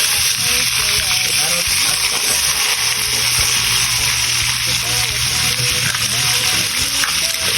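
Food sizzles and crackles steadily in a hot pan, a loud continuous frying hiss with a voice talking underneath.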